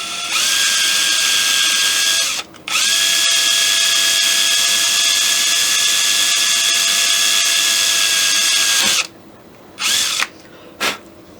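A power drill bores through the wood of a flintlock nose cap on a Kibler Colonial Flintlock kit, a loud steady whine held for several seconds, a brief break, then a long run followed by short bursts as the trigger is released.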